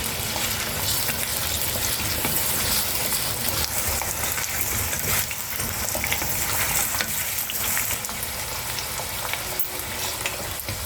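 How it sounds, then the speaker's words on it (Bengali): Potatoes fry in hot oil in a pan for a hyacinth bean and shrimp curry as they are stirred, producing a loud, continuous crackling sizzle with shifting bursts of spatter throughout, close up and with no talking. "আলুগুলো ভাজা হয়ে গেছে প্রায়"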